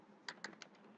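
A computer keyboard tapped quickly, three or four faint crisp clicks in a brief burst, close but quiet, with no talking.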